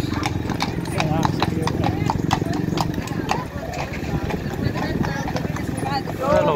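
Steady clip-clop of several horses' hooves on a hard surface at the Blackpool Illuminations, continuous and fairly close, with people talking over it throughout.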